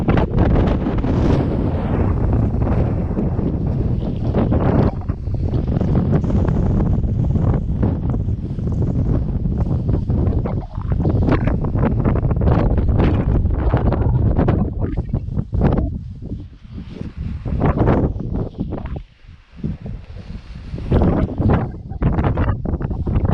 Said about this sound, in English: letting in loads of wind